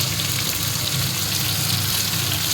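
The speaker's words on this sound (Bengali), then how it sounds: "আলু পটলের তরকারি করবার জন্য পোস্ত টোস্তগুলো মিক্সড করে করে নিয়েছি এটা হালকা করে ভেজে নিয়ে" Poppy seed mix lightly frying in a pan for a potato and pointed gourd curry, with a constant close sizzle and bubbling that holds steady throughout, no speech.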